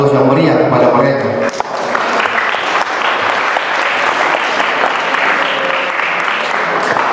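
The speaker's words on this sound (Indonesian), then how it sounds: "juga kita berikan aplaus yang meriah kepada mereka" Loud, sustained applause from a crowd at a school Independence Day thanksgiving ceremony at a boarding school, following a speaker on a microphone and continuing steadily to the end.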